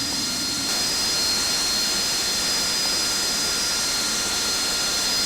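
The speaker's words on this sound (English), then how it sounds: "Engine spooling up." An AV-8B Harrier jet engine in the flight simulator Falcon BMS whines steadily as it spools up, a continuous high turbine tone over a broad rushing roar, heard alone.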